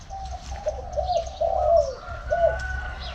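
A spotted dove coos in a soft, repeated rhythmic phrase nearby, with faint chirps from other birds and a low rumble of background noise.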